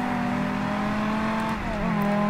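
Dodge Viper SRT-10 Coupe engine in World Racing 2 at Laguna Seca, a loud steady high-rev drone with a brief dip and pitch drop around a gear change before climbing again, close and continuous with no talk.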